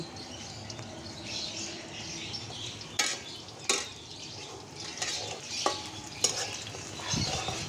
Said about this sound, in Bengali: পেঁয়াজ অলমোস্ট ভাজা হয়ে গিয়েছে